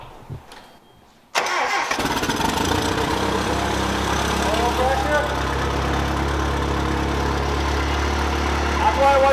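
A car engine with a cheap Amazon turbo fitted cranks briefly, catches with a sudden jump in loudness and settles into a steady, loud idle with a constant low rumble; faint voices are heard near the start.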